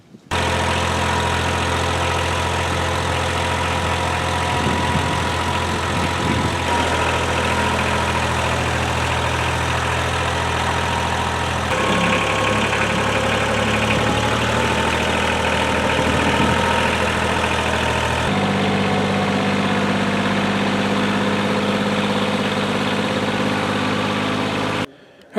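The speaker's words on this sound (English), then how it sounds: "let me go ahead and get on the tractor, get some tractor work done." A tractor engine idles steadily and loudly close by for about 25 seconds, a low rumbling drone with faint knocking and vibration whose tone shifts slightly a few times before cutting off abruptly, no talking.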